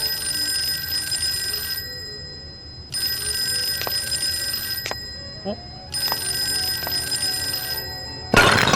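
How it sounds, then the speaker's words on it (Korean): A telephone rings in the horror video game Fork Road, three long electronic ring bursts separated by pauses of silence, loud and close, ending with a sudden heavy crash. "이제 전화가 오겠죠"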